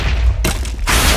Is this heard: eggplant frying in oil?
no